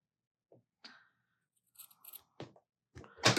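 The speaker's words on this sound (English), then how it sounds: "Going to snip my corners." Scissors snip the fabric corners of a sewn snowman quilt block, a few short, quiet, crisp cuts spaced irregularly over a few seconds in a calm room.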